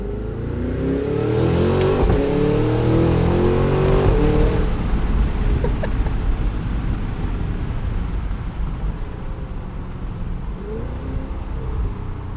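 A 2025 Cadillac Escalade V's 682hp supercharged V8 revving hard then settling into a deep, uneven burble with pops, loud and close, no talking.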